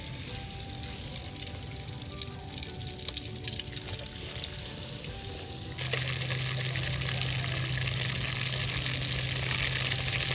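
Hot oil sizzles and crackles steadily in a wok, then flares into a louder, brighter hiss as pieces of fish hit the pan.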